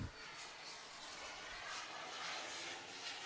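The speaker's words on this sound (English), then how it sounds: "As a loud plane flies by" Loud airplane flying over a softball stadium during an FAU vs Kansas game, a broad steady roar filling the whole stretch, distant and continuous.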